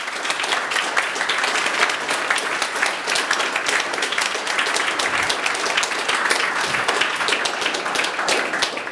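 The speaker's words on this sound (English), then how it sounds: "It's a big applause." A big round of audience applause after a talk on shaping future cities, loud and sustained crowd clapping that fills the room evenly from start to finish with no voices on top.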